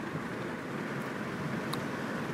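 Constant rushing wind noise, like air buffeting through open car windows while driving, steady and fairly loud with no speech.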